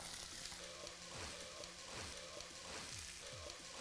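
Sliced onions fry in oil in a pan, giving a soft, steady sizzle with gentle crackles throughout, fairly quiet and with no talk over it.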